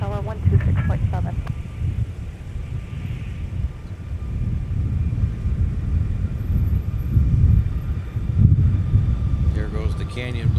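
A Frontier airliner departs from MSP airport, heard as a steady low jet rumble in the distance, with radio voices speaking briefly at the start and end.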